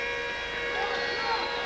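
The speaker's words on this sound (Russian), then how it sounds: "Звучит сирена" Ice hockey arena siren at a 1998 game, a sustained steady wailing tone held at constant loudness over crowd murmur.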